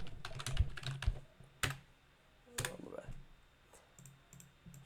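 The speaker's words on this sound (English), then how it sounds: "let me just type it out" Computer keyboard typing in quick irregular bursts of clicky keystrokes, close and fairly quiet, with a few heavier key presses standing out and short pauses between runs.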